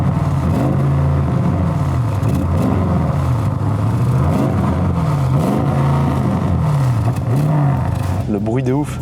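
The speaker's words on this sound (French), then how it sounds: "ça fait beaucoup moins de bruit qu'une RS6 C7 d'origine, mais t'as quand même un beau bruit rauque là" Audi RS6 engine revving hard under acceleration, a loud raspy growl that rises and falls in repeated surges close by, with a voice briefly heard over it.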